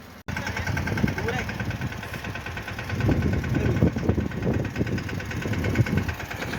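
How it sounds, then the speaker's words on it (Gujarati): A mini tractor in a cotton field runs with a steady, close engine chug that continues throughout, while someone talks over it. "તો આવી ગયું છે ટ્રેક્ટર"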